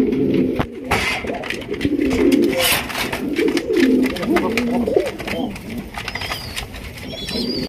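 A breeding pair of pigeons coos close by in a sale enclosure, a run of soft, throaty rolling calls repeating over several seconds with some faint background noise.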